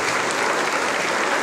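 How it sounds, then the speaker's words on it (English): A school assembly crowd at Carmel Convent Senior Secondary School, Ratanpur, Bhopal, claps in a dense, even burst of applause for a student topper. "A huge round of applause to Kushi."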